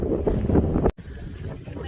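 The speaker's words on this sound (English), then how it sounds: "And it's windy as can be right now." Strong wind on a beach on Marco Island, Florida, buffeting the microphone as a loud, steady roar that drops out briefly before blowing on.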